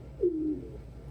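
A single pet pigeon gives one close, soft, low coo lasting about half a second in a quiet room.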